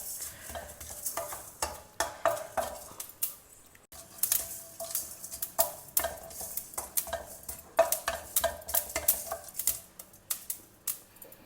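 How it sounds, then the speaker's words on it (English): Black pepper, methi seeds and sesame dry roasting in a pan for a South Indian festival recipe, heard as a steady run of dry scraping stirs and light rattling taps, close and fairly loud, with no talk. "Dry roast all these three well together."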